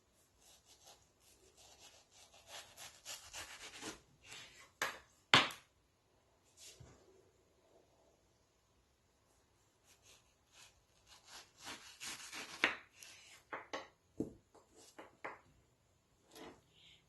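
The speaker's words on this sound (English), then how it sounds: "I'm going to be cutting on both sides of the pit." A knife slicing the flesh of a tropical fruit away from both sides of a large, slender pit, heard as close, faint, intermittent scraping and rasping strokes in two bursts with a quiet gap between them.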